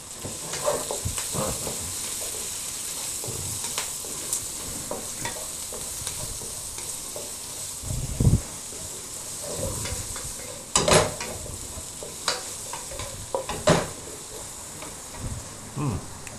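Capsicum for chilli chicken sizzles in a pan while a utensil stirs it, with irregular scraping knocks over a steady hiss and a faint insect-like background drone.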